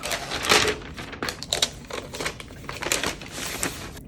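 Crisp plastic wrap and film crinkling and tearing as a new MacBook Pro 14-inch M1 Pro is unwrapped, a busy run of close, rustling crackles with sharp bursts, no talking.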